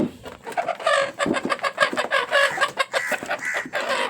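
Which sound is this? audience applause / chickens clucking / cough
chickens clucking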